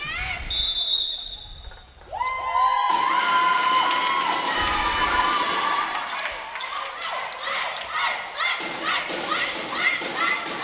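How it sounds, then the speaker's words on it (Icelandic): Fans of the Víkingur girls' handball team erupt into loud, high-pitched cheering and shouting after a win in an indoor sports hall, with thuds and squeals mixed in, sustained after a brief lull. "Víkingstelpur fagna hérna."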